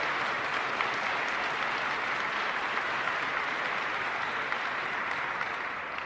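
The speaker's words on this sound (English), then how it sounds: "Give them a round of applause" Steady, dense applause from a large audience at an Air Force base gathering, a continuous wash of clapping held at even volume for several seconds without voices on top.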